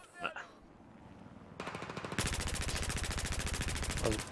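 Automatic gunfire in Battlefield 4 starts with a few scattered shots, then becomes a long, loud, rapid machine-gun burst that runs to the end.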